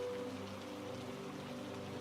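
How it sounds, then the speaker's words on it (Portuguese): Light, fine rain falls steadily outside, a soft continuous patter with a faint hum of background music or drone underneath and no other sounds. "Uma chuva bem fininha cai lá fora"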